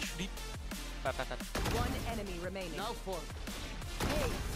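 Rapid gunfire from a competitive video game shooter, repeated sharp shots and crashes over a steady game soundscape, with excited voices talking over the action.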